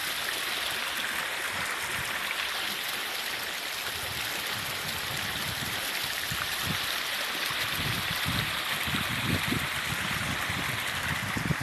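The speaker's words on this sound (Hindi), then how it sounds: "दूर से मैं कैमरा शो कर रहा हूँ, देखिए पानी कितनी अच्छा है," A stream flowing through green countryside toward a dam, a continuous bright rushing and gurgling wash of water heard steadily for about twelve seconds, with no one speaking.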